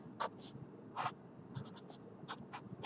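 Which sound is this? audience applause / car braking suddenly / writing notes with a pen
writing notes with a pen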